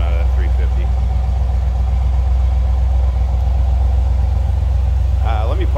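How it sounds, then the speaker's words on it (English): A 1971 Chevrolet Corvette coupe with a 350 V8 and newer mufflers idles with a steady, low, mellow exhaust rumble, close and continuous, while a voice comes in briefly near the end. "Nice little rumble coming out of that 350."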